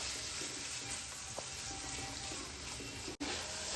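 Tomatoes cook in oil with cumin in a pan, giving a soft, continuous sizzle and gentle crackle at low volume. A brief cut breaks the sound near the end.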